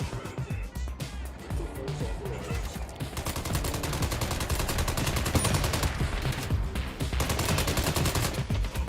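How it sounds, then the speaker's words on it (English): Sustained automatic gunfire in the MindsEye video game as a player shoots at robots, rapid continuous bursts growing denser and louder through the middle, with a voice partly audible under the shooting. "I'm finding shooting at the legs of robots is much better now"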